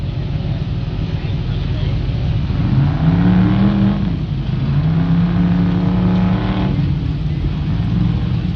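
Rock crawler off-road buggy working through a competition rock course at a W.E. Rock event, its engine revving and droning steadily at mid distance, with a commentator talking over it throughout.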